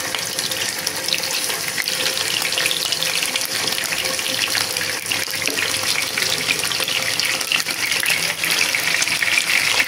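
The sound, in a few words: chicken frying in fried-onion (beresta) oil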